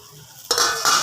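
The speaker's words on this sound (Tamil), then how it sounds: "தேங்காயும் போட்டு வதக்கணும்." Grated coconut stirred and sautéed in a hot pan for urad dal chutney, with two short, close bursts of scraping and sizzling after a quiet start.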